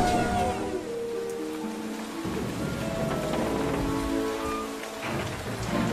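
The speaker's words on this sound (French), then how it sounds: "Une tempête, oui." A storm in a French animated series, with steady heavy rain pattering alongside low rolling thunder, loud and continuous with no voices.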